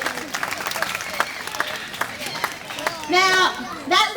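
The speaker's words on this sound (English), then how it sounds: "Give a big round of applause as he heads on down to his family" An audience claps for a participant at a free-flight bird show at Currumbin Wildlife Sanctuary, a brief burst of scattered applause with crowd chatter and a presenter's voice over it.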